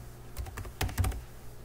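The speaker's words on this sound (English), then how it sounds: "So we type in set debug" A short burst of computer keyboard typing enters a command into the Betaflight CLI, with about five or six close, crisp key clicks in quick irregular rhythm and nothing else around them.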